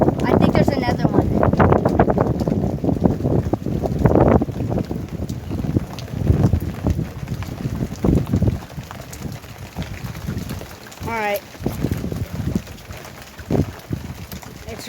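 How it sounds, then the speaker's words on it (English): Strong gusting wind roars steadily across the microphone during a hail storm, loud and close throughout, with people talking over it. "It's really windy, bro."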